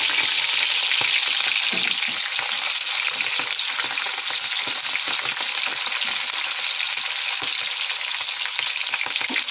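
Onion hits hot oil in a pan, giving a loud, dense, unbroken sizzle and crackle that stays strong from start to finish with no voices.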